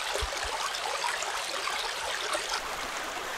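A small brook in Germany flows steadily with an even, rushing trickle of water. It sounds close and continuous, with a couple of soft low thumps near the start and no voices.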